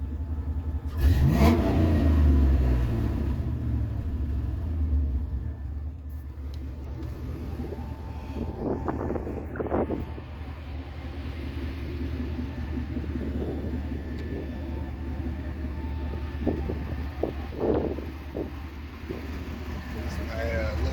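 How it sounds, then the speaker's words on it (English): A Chevy S10 pickup with a swapped LS V8 cranks to life with a loud surge, then settles into a rumbling idle with occasional revs, while someone talks over it. "Start this thing up for you guys."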